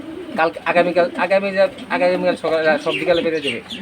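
High-flying Chila Brahma pigeons coo close by in repeated throaty, rolling phrases that rise and fall in a steady rhythm.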